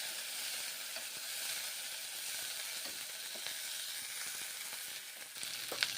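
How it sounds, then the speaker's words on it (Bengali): Green beans fry in hot oil with onions and black cumin, a steady close sizzle with faint scattered clicks of a spatula near the end and nobody speaking. "বিনসগুলো ভেজে নিচ্ছি, পেঁয়াজ ভেজে নিলাম, এখন বিনসগুলোকে ভেজে নিচ্ছি"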